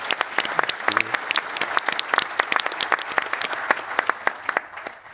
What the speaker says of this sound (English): I would ask you to give the second big applause to those researchers and organizers